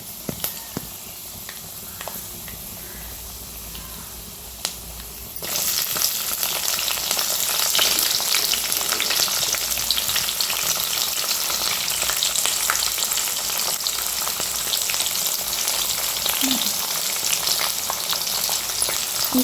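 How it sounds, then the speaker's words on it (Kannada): Peanuts, chana dal, urad dal and green chillies deep-fry in oil, a quiet crackle jumping to a loud, dense, steady sizzle after a few seconds that continues unbroken, close up. "2 ನಿಮಿಷ ಎಣ್ಣೆಯಲ್ಲಿ ಫ್ರೈ ಆಗಬೇಕು. Deep fry."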